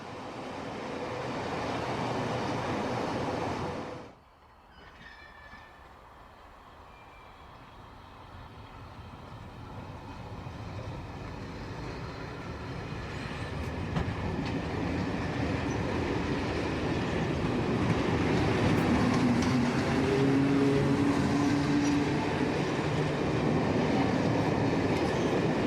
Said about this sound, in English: South West train services are seen with 4 VEPs and 4 SIGs in charge